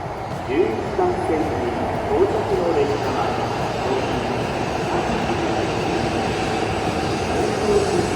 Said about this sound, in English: During this entire trip, I took a lot of trains and a lot of bullet trains.